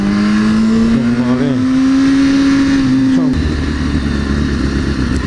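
A McLaren car engine holds a steady, loud, rising drone as it drives past, then cuts off sharply partway through and leaves lower background noise.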